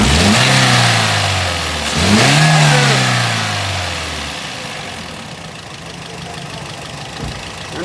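Toyota GLi car engine being revved in a workshop for a tappet noise problem, two sharp rising revs falling back to a rough, knocking idle, loud and close with no talk.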